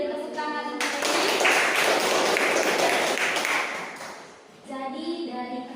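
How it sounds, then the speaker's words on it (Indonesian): Classroom applause for a student: a few seconds of dense, steady clapping from a group, rising quickly and fading out, with children's voices before and after. "Beri tepuk tangan untuk Reni."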